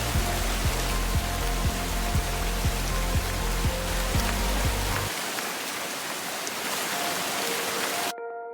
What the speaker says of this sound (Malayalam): പിന്നെ മഴ പെയ്തു, മഴ ആസ്വദിച്ചു